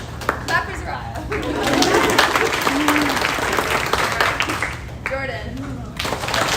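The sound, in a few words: audience clapping for a named student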